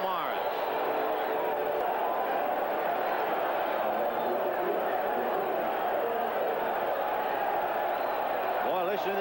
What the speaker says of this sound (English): Boy, listen to this crowd. They're alive now.